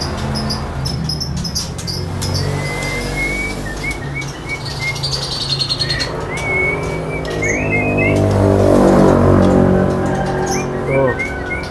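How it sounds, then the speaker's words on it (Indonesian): A Medan magpie robin (murai) sings bright whistled chirps and short trills, repeated over a loud, continuous background din. "berikutnya di sini ada burung murai Medan Kali Medan ya"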